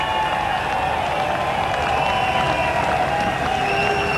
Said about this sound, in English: How about making a nice round of applause and welcome him home?